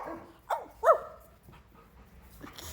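Several happy dogs in a household of seven bark in short, sharp bursts with a whimper mixed in, close and fairly loud, separated by quieter gaps.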